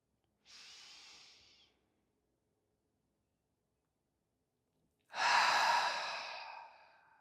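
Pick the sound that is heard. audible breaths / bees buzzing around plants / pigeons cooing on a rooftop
audible breaths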